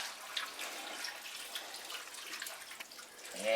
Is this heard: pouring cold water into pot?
yes